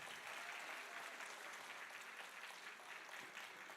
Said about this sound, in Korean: 다시 한번 우리 후보자 여러분께 뜨거운 박수 한번 부탁드리겠습니다.